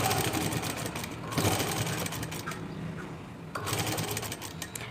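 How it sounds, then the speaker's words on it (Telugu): A sewing machine stitches a neckline on stretchy fabric in quick close bursts, the motor whirring with brief pauses between runs. "ఇలా మిషన్కి పెట్టేసి ఒక పాదం మందం స్టార్టింగ్ నుంచి ఎండింగ్ దాకా పాదం మందం రావాలి."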